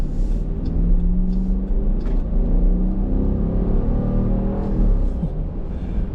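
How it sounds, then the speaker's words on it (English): A 5.7-liter HEMI V8 in a 2024 Dodge Durango R/T rumbles loudly and steadily at close range, with a deep low growl that swells slightly, as if revved, over about six seconds, with no talking. "The HEMI is what sells me, and it kind of sounds something like this."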